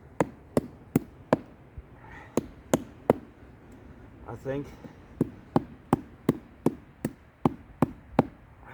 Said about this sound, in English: If you can hammer it in here.